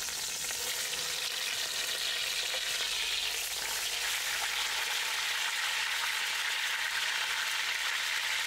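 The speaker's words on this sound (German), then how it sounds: "das Fleisch rundum richtig schön braun anzubraten, weil das gibt nachher Geschmack" A beef roast sears in a Dutch oven, giving a loud, steady, close sizzle of hot fat that continues without pause, with no voices.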